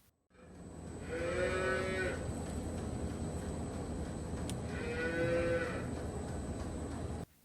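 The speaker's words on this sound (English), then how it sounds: "Do you hear all those baby calves in the background?" Baby calves mooing at morning feeding time on a farm, two long drawn-out moos a few seconds apart over a steady background hum, somewhat distant, no talking.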